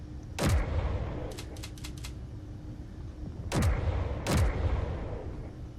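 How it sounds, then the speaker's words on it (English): Artillery guns in Space Engineers fire in heavy booming shots, a single blast, then a quick cluster of four lighter reports, then two more big booms, each with a falling tail, over a steady mechanical hum. "if we go over here to all the artillery guns and hit shoot, it shoots all of them"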